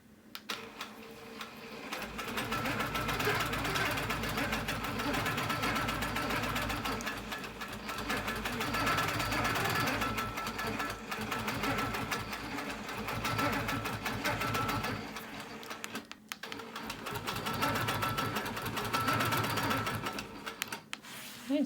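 A sewing machine quilts a wholecloth quilt, running in long even stitching bursts with brief pauses between them, a fast mechanical whir heard up close.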